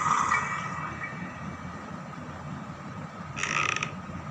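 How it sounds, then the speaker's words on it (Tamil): A door in the Granny horror video game creaks shut with drawn-out, grinding mechanical squeals. A sharper, louder creak comes near the end over a low steady game ambience, with no talking. "நம்ம கதவை சாத்தி விட்ருவோம்."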